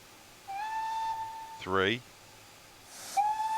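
Steam whistle of an SECR C Class locomotive in Train Simulator 2019 blows two clear, steady toots, the second cut in after a brief hissing steam release, with a voice counting faintly underneath.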